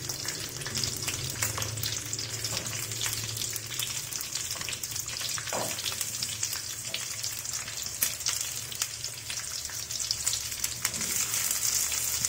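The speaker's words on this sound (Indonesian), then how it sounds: "Kemudian kita buat goreng bumbunya dulu." Shallots, garlic and chili sizzle steadily in hot oil as a spice paste base is fried, a continuous close crackle with occasional stirring scrapes and no talking.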